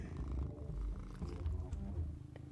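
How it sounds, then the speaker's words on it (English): A cat purrs steadily and close, a low continuous rumble with a pulsing rhythm that fills the whole stretch without talk. "Meaning fills the purring of other cats"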